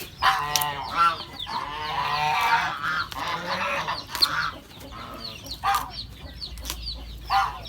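Garden chickens cluck and squawk close by in a busy, overlapping stream of calls lasting several seconds, with a few louder honking bursts standing out.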